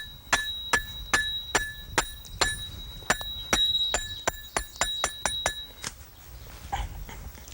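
A snare stake being hammered into the ground in a wooded area, about fifteen sharp metallic strikes in a steady rhythm that speeds up toward the end, then stops.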